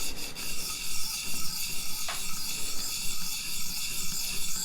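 Knife sharpener scraping across the face of a Hinderer Firetac blade, a series of short raspy rubbing strokes in a steady rhythm with one brief bright metallic ring partway through, close and moderately loud, no voices.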